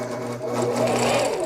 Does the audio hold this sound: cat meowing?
no